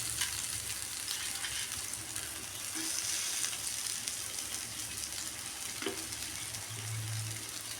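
Pieces of elephant foot yam fry in a light amount of oil, giving a steady, close sizzle that runs the whole time with faint bubbling and a few soft clicks of turning.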